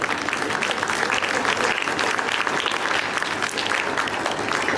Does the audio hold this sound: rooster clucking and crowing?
no